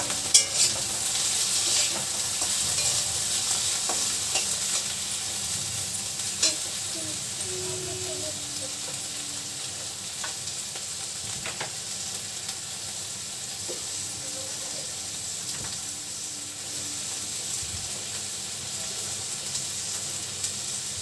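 Pasta cooking in a pot, a long steady hiss of simmering water with scattered soft clinks and scrapes from the pot at moderate distance, a voice briefly present.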